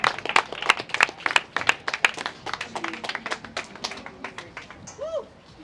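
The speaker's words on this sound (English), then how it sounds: "Can I get a round of applause for Matthew Silver" An audience gives Matthew Silver a round of applause, with many quick, close claps forming a dense patter that thins out near the end, where a voice briefly cuts in.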